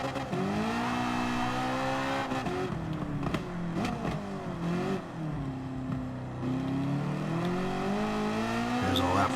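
A Penske Sunoco Camaro race car running a lap, its engine revving and shifting up and down loudly and close, with a sharp rise near the end.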